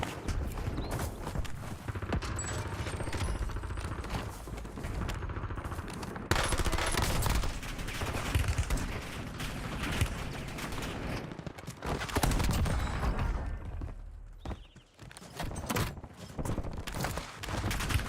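Dense automatic gunfire in the shooter game Warzone, long rattling bursts of rapid shots near and loud with brief lulls, continuing almost without pause for the whole stretch.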